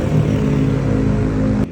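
A motorcycle engine idles and revs steadily nearby with a throaty, continuous drone, then cuts off abruptly near the end.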